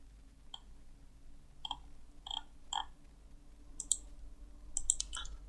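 Mouse clicks during work on a JSP and MySQL project in Eclipse, a series of sharp, quiet clicks spaced irregularly, some in quick pairs, over a steady low hum.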